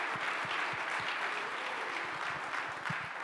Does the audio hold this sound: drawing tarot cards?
no